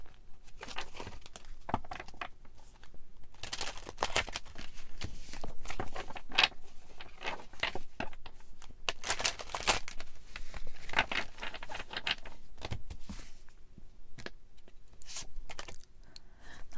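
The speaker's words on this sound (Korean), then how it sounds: "상대방 분들이 사수분들에게 전하고 싶어 하시는 메시지 카드 뽑아보겠습니다" Tarot message cards are shuffled and drawn by hand in a steady run of soft papery shuffles, riffles and slides, close and fairly quiet throughout, with no voices.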